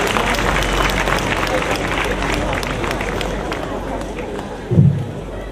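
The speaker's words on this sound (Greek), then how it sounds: "Δυνατό χειροκρότημα." Loud applause rises from an audience at a Lyceum of Greek Women dance performance in Kiato, dense clapping mixed with crowd noise that holds steady, with a brief low thump near the end.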